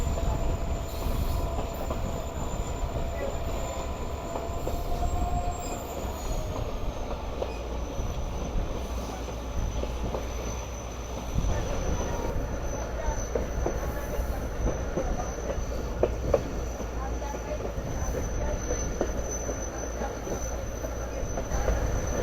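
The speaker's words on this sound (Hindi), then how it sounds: "ये काफ़ी अच्छी गुलाई पर है इस वक्त हमारी ट्रेन।" Sukkur Express passenger train rolling slowly through a curve on the Karachi to Sukkur line, a steady close rumble of wheels on rails with a thin sustained wheel squeal running throughout.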